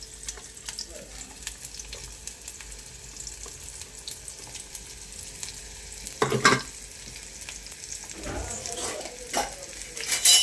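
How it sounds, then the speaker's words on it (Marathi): Chopped onion frying in hot oil on a gas stove, a continuous sizzle with occasional sharp clatters of a spoon stirring against the pan, close and fairly loud, no talking. "गरम तेलामध्ये कांदा घालतील"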